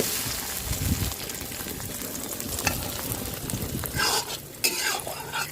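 Thai-style omelette frying in hot oil in a pan, a loud continuous crackling sizzle close by with occasional scrapes and clinks of a utensil, swelling briefly toward the end.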